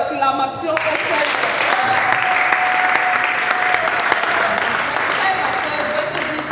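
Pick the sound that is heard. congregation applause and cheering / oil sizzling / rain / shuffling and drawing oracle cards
congregation applause and cheering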